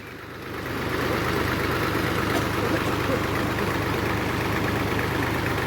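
A 2010 New Holland Fiat 480 tractor with a 55 hp engine idles steadily, a dense, even diesel rumble that swells slightly in the first second and then holds constant and close.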